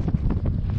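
Desert wind in Mauritania during a dust storm, a loud, steady roar buffeting the microphone in a short, unbroken burst with no voices.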